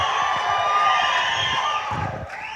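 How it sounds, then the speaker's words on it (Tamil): An audience at a Tamil film audio launch cheers and whistles in a loud, continuous roar that holds throughout and eases slightly near the end. "அதை சொல்லி முடிக்கிறதுக்கு முன்னாடி வர இந்த கைத்தட்டலும் விசிலும்"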